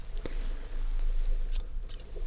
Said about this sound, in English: It just doesn't happen with these really satisfying scissors.